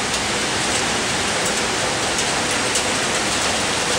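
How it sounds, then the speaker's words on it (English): Steady, dense rain falls on a Toronto balcony, a constant close wash of patter and hiss with no pauses and no voices. "It's raining in there"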